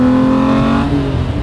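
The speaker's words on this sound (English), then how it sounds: "I've now got revs. Lots of revs." A Jannarelly Design-1 sports car's engine revs hard up close, a loud, rising whine that peaks and then drops back as the revs fall, alone without talk.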